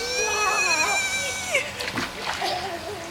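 Someone jumps into a cold-water makeshift backyard pool in Florida with a sharp splash midway, after excited high-pitched voices and squeals, followed by splashing water and more voices.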